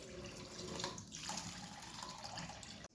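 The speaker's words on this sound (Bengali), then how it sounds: "এর মধ্যে এবার জল দিয়ে দেবো, অনেক জল দিতে হবে" Water poured steadily into a soup pot while cooking chicken momo soup, a continuous soft splashing rush at close range that cuts off abruptly at the end.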